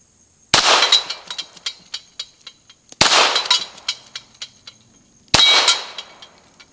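A Ruger Mark IV Target pistol fires subsonic .22 rounds at a target, three sharp close cracks spaced a couple of seconds apart, each followed by metallic pings and clinks from the range.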